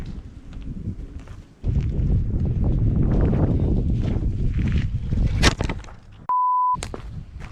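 Wind buffeting the microphone outdoors on a riverbank while bank fishing, a loud rumbling gust that starts abruptly and holds for several seconds, with a short sharp click and a brief electronic beep tone near the end.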